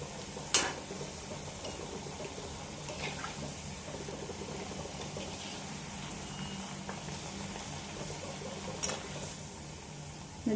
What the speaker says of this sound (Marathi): मध्यम आचेवरती भज्या तळायच्या.